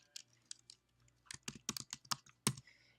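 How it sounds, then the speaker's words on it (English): Scattered keystrokes on a computer keyboard in a quiet room, a few light taps and then a quicker burst of close typing, with no speech. "You will begin typing in the box"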